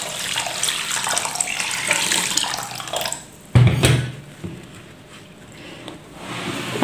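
Water gushes loudly from a tap into soaking grains for appam batter, a continuous rushing splash with a brief thump partway through, then the flow quiets down.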